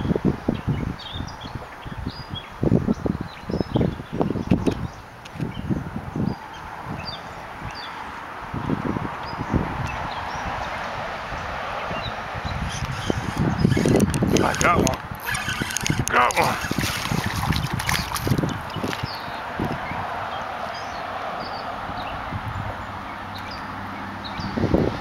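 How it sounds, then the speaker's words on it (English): Wind gusts across a lake during bass fishing, roaring unevenly against the microphone with rustling and thumps, and water lapping against a boat. "Wind's really blowing."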